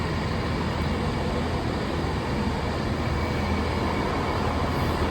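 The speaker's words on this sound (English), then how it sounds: "Oh, this is another bloody train." A steady, loud rumble of a train rolling past fills the whole stretch, broad and continuous with no talking.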